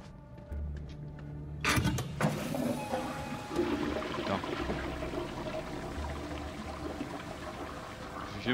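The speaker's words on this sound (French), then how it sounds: "Vieux bruit de chasse d'eau" An old toilet flushing in the zombie game Dead Island 2, a sudden rush of pouring, gurgling water that starts abruptly and keeps churning steadily at close range, alone without talk.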